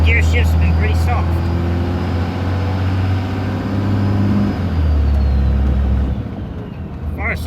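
A vehicle with a repaired 47RE automatic transmission drives along, its engine drone steady and loud, with pitch shifts as gears change softly, while someone talks over it.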